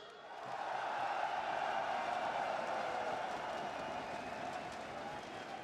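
A large arena crowd at a Counter-Strike grand final in Antwerp roars steadily in a broad, sustained cheer that swells and then holds, heard from a distance as a dense wash of voices.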